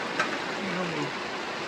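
Rain falling steadily in the Sundarbans mangrove forest, a soft, even hiss of drops that stays fairly faint throughout, with a faint tonal call briefly rising above it.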